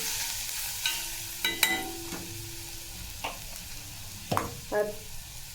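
Spinach sautéing in oil in a pan for dry palak bhaji, with scattered stirring scrapes and soft clinks over a faint, steady sizzle; quiet and close, no voices.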